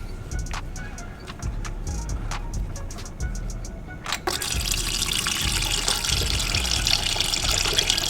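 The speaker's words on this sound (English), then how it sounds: "we're gonna drain the oil" Engine oil gushing from the drain plug of a BMW F90 M5's oil pan into a catch container, a steady liquid stream that swells louder partway through, preceded by faint clinks and with no talk over it.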